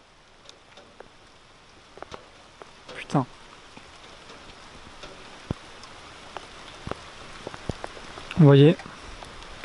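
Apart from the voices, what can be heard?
heavy rain during a gale in Bordeaux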